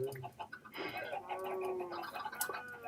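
Synthetic-sounding chickens in the video game Chronicles of Elaania cluck and bawk in a steady, busy stream, with a sharp higher squawk near the end, fairly close and moderately loud.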